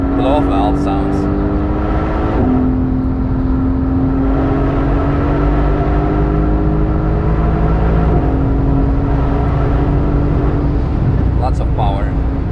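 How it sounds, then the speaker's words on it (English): Mercedes-AMG GT S engine on the Nürburgring, with a rear-end fault, humming and revving steadily with rising and falling pitch and a few brief blow-off valve chirps, loud and continuous inside the car. "I like the blow-off valve sounds."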